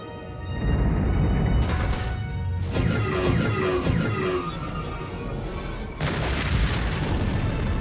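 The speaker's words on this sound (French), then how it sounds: "le vaisseau impérial vient d'ouvrir le feu" Battleship cannons fire during a space battle in an audio drama: three heavy booming blasts land a few seconds apart, each followed by a sustained crashing roar, with a tonal score underneath.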